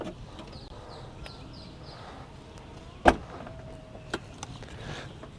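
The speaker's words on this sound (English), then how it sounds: "love how easy the trunk is to open. And then hands-free close." The trunk lid of a 2020 BMW M550i closes hands-free with a soft motor whir and a firm latching thunk, followed by a lighter click, heard close in a quiet outdoor setting.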